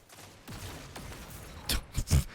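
A grenade launcher fires in Dead Messenger, with a few sharp, punchy blasts bunched near the end after a quieter lead-in, and one last shot lands loudest.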